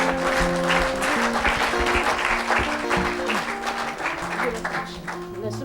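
A church congregation applauds steadily throughout, dense sustained clapping with music playing underneath and some voices mixed in.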